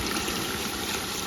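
Milk pouring into a pot of chicken biryani: a brief, steady, close liquid rush that runs the full moment without pause.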